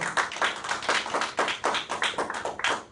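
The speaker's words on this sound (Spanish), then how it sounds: "Dar otro fuerte aplauso al Señor." A church congregation claps in praise, loud, crisp hand claps falling in a fairly regular rhythm, roughly a dozen distinct beats, close and prominent.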